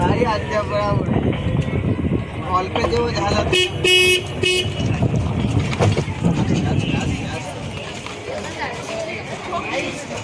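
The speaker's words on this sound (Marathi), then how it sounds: "आपण या गाडीमध्ये बसलो आहे आणि ही इलेक्ट्रिक गाडी आहे जी सगळीकडे आपल्याला फिरवत आहे" Passengers chat aboard a slow-moving open vehicle as its horn gives a few short, harmonic toots amid busy outdoor noise.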